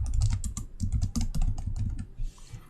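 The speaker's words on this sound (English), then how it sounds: "So when you type in a feedback in the form," Rapid typing on a computer keyboard, with quick, uneven clusters of key clicks filling a web feedback form, close to the microphone and with no voices.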